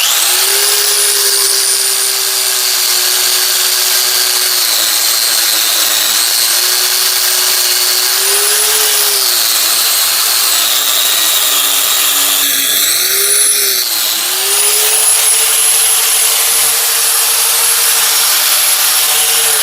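A Harbor Freight angle grinder runs continuously at close range with a loud, steady high whine, its pitch dipping briefly now and then as it takes load, with no one talking.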